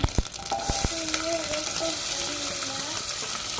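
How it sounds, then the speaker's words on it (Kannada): Loud, continuous sizzle of onions frying in hot oil with mustard seeds and cumin for tempering, with a couple of sharp clinks at the start and a faint tonal hum running through. "ಈರುಳ್ಳಿ ಹಾಕೋಣ"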